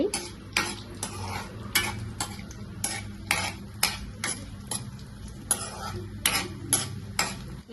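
Red chillies fry in oil in a pan with a low sizzle, while a spoon scrapes and clinks against the pan in a regular stirring rhythm, close by.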